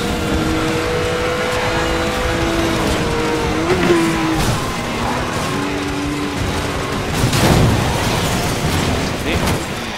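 Cars race in Need for Speed Most Wanted 2012, with revving engines, shifting pitch and bursts of crashing or skidding noise, while someone talks over the game sounds.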